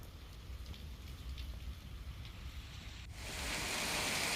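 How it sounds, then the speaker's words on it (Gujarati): Rain falling outdoors in a hilly village area during a monsoon downpour, a faint steady hiss that swells louder near the end, with no voices. "ક્યાંક ધોધમાર તો ક્યાંક ઝરમર વરસાદ શરૂ થયો।"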